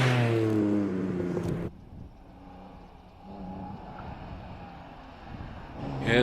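A Reliant Scimitar Coupe driving past at the Prescott hillclimb, a moderate engine drone with wind buffeting on the microphone, following a stretch of talk and ending as a voice returns.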